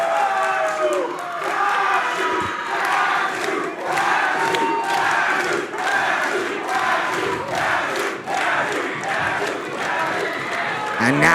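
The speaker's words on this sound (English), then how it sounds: "Listen to the ovation" A Chaotic Wrestling crowd roars in ovation during a match, loud and continuous cheering, shouting and clapping that surges in waves, with voices prominent throughout.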